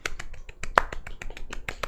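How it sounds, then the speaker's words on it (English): Light, sparse clapping from one or two people, a quiet golf clap with about a dozen separate crisp slaps in under two seconds, no talk. "Can I get a little golf clap for it?"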